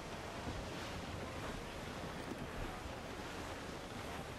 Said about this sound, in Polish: No, wiatr się zmienił.